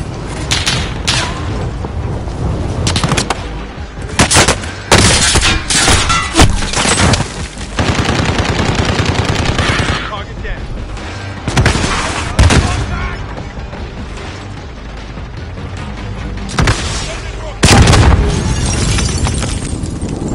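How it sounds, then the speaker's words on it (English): Video-game gunfire in Operation Fury: loud, dense rapid bursts and booming impacts in repeated volleys over about twenty seconds, with brief pauses between flurries and a voice now and then underneath. "Taking fire!"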